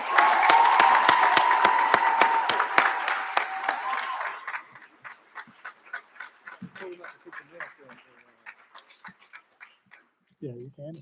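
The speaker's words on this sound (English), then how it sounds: "One more round of applause." Dense audience applause at a recognition ceremony for a university's newest Distinguished Service Professor, loud and sustained for about four seconds, then thinning to scattered claps as voices start talking.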